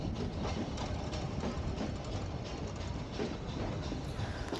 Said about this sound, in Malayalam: നമ്മുടെ മേട്ടുപ്പാളയം റെയിൽവേ സ്റ്റേഷനിലോട്ട് അടുക്കുകയാണ് ട്രെയിൻ